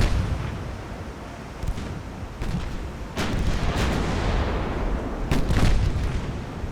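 Naval guns fire in Ultimate Admiral: Dreadnoughts, with repeated booming salvos at irregular intervals over a steady low rumble, the later shots louder and denser.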